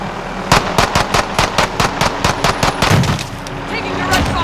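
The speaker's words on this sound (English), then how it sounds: "Taking direct fire" Rapid video-game gunfire during a drop into a combat zone, a steady string of about a dozen sharp, loud shots in an even automatic rhythm, with a low rumble and background voices beneath.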